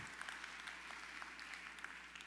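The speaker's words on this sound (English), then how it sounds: "Give us a round of applause." Audience applause at a county State of the County event in Tyler, Texas: steady, dense clapping from a crowd held at an even level through the whole span, fairly distant and faint, with no talk over it.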